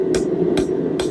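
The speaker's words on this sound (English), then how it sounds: "we're doing glancing blows off the edge of the anvil, and then we flip it up and we kind of hammer it in towards ourselves" A hammer strikes hot steel against the edge of an anvil while a corkscrew is being forged, three sharp ringing blows at an even pace over a steady background hum.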